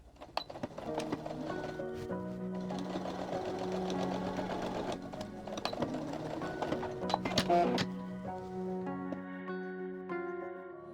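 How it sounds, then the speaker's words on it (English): A sewing machine stitches a seam on a tie top, with a steady rapid mechanical whirring and clatter that runs close and continuous, then slows and stops near the end. "Pin it and sew with 2 centimeter seam allowance."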